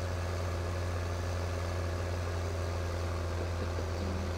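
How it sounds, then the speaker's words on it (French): A 170-horsepower Renault tractor engine labors under load on a farm field, a deep steady droning hum heard close and continuous throughout, with no speech. "le tracteur il a du mal"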